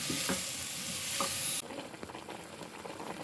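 Steady sizzling of beans frying with onion and tomato paste in a pan, with a few stirring scrapes and clinks; loud and close, easing slightly partway through.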